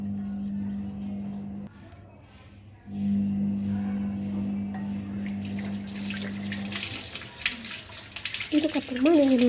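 Water runs steadily from a tap while a brass lamp is washed, a low constant hum underneath, growing into louder splashing and scrubbing toward the end.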